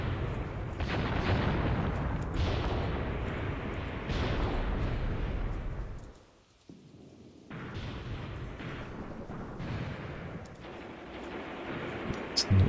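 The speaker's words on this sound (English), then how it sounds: "Let's get some mortar fire then." Video game mortar artillery fire rumbles in heavy, overlapping booms and distant blasts, loud and continuous, dropping briefly near the middle before the barrage resumes.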